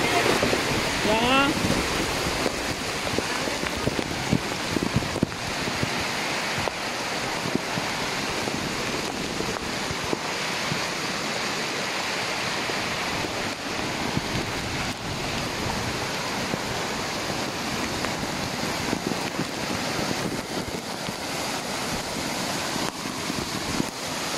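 Strong Typhoon Kristine wind buffets and roars continuously, mixed with rushing water, loud and close throughout, with occasional voices underneath.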